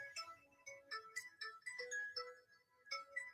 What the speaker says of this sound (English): Phone's ringing across the room